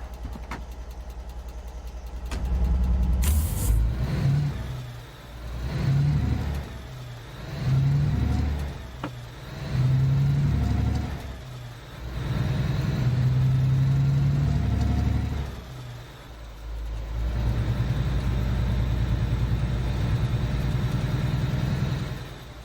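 A truck engine in the Alaskan Road Truckers video game, idling and revving in repeated swells, loud and close, then settling to a steady low rumble with no one speaking.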